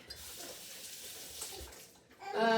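Brine fluid drains and trickles off a turkey on a tray, a steady splashing run of liquid that swells louder near the end, where a brief higher tonal sound cuts in.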